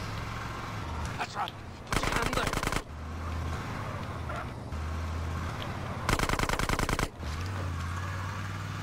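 Bursts of rapid automatic gunfire in GTA San Andreas, two loud sustained volleys about a second each with scattered single shots between, over a steady low engine drone.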